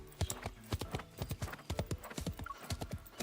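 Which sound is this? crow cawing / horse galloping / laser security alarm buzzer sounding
horse galloping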